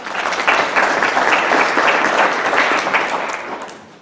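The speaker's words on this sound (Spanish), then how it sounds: "Un fuerte aplauso para él." A large conference audience at an international arbitration and conciliation congress applauds a guest speaker being welcomed; dense, loud clapping sustains evenly and then fades out near the end.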